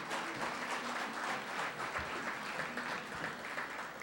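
A banquet crowd at a raceway awards dinner gives a warm, steady round of applause, dense clapping that fills the room for the whole stretch without a break.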